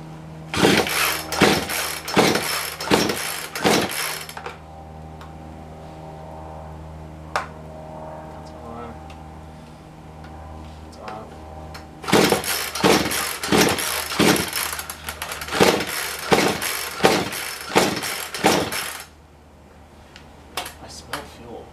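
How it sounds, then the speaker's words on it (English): A Poulan Pro chainsaw with a cold-scored piston is pull-started, primed and choked: two bursts of rapid, loud recoil-cord pulls and sputtering cranking, separated by a quieter stretch with brief handling sounds, with no sustained running. "Okay, I have it primed, not choked."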